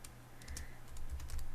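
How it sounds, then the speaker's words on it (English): Keys tapped on a computer keyboard in a short quick run of light clicks, close and fairly quiet over a low steady hum. "I just type in something to do with the name"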